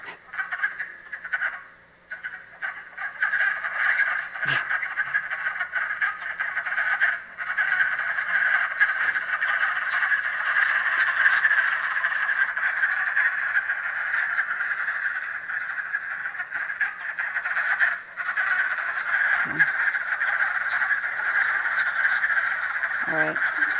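A dense recorded chorus of wood frogs (Rana sylvatica) keeps up a steady, continuous clucking croak that stays loud and full throughout, with many callers overlapping and only a few brief dips.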